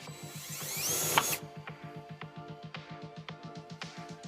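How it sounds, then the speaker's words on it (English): A power drill whirs briefly, then settles into a steady rhythmic pulsing as a self-tapping screw is driven into the metal body of a Subaru Crosstrek, close and fairly quiet. "affix the ground wire to a metal surface using the self-tapping screw"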